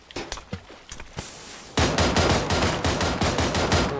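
Rapid gunfire in the game PUBG: single cracking shots at first, then a dense, loud volley of repeated shots hammering in quick succession.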